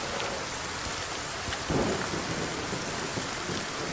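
A thunderstorm in the game Force of Nature II: steady rain hisses throughout while a single low thunder rumble swells briefly near the middle.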